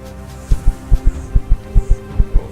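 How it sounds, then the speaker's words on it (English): Player character's heartbeat in the video game Empyrion Galactic Survival, a loud close thumping in paired lub-dub beats repeating steadily at a moderate pace over a low hum. "so here my heart beating"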